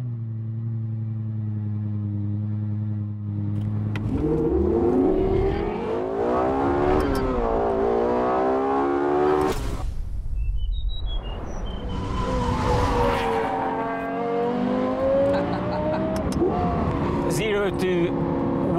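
A Lexus LFA with its Yamaha-built engine revs hard while driving, with a loud sustained engine note climbing and falling in pitch through several gear changes, close and dominant throughout.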